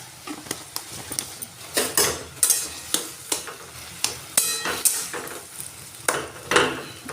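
A spoon adds sugar to softening tomato cooking in a pan for tomato puri, giving regular clinks and scrapes of metal against the pan over a light sizzle, close by and with no talking.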